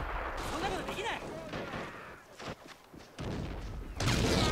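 Artillery-style mortar fire in the Men of War: Assault Squad-type real-time strategy game, a dense run of booming shots and blasts layered over loud battlefield noise with voices talking throughout.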